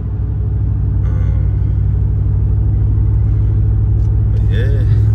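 A 2017 RAM 2500 Big Horn HD pickup truck's engine and exhaust, a deep steady low rumble heard from inside the cab while cruising, continuous and loud throughout.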